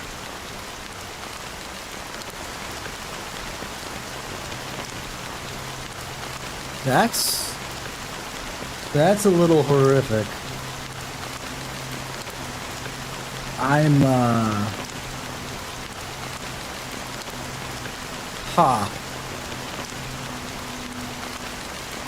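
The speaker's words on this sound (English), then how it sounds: "How long has this rain been going on for?" Steady rain falls throughout a scene in the Honkai Star Rail video game, a constant dense hiss of drops on surfaces, with a few short bursts of speech over it.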